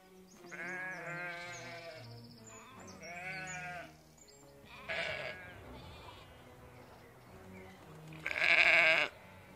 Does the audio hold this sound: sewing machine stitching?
no